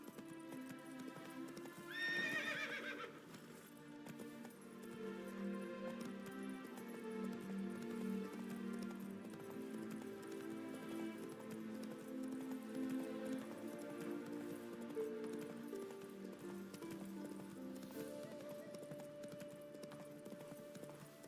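Roach, Geralt's horse in The Witcher 3, gallops with a fast, steady clip-clop, a loud neigh rising early on, and music playing underneath throughout.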